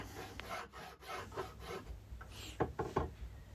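Sandpaper rubs by hand across a scrap hardwood handle in quiet repeated back-and-forth strokes, soft and close with a few sharper scrapes toward the end.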